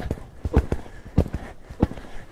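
Hoofbeats of an eight-year-old Selle Français stallion under a rider, close and distinct, falling in an uneven gait rhythm of thudding footfalls with soft ground noise between them.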